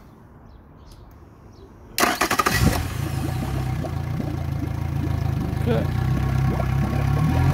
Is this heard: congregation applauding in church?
no